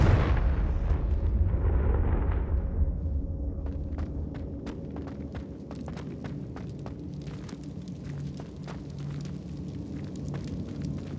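A Confringo fire-blast spell exploding in the Hogwarts Legacy video game, a loud booming blast that rumbles and fades over a few seconds, followed by a series of sharp crackling pops and steps.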